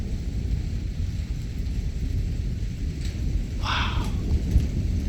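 Powerful thunderstorm from a mesoscale convective system with continuous lightning, steady heavy rain and a low constant rumble of thunder, plus a brief crackling burst partway through.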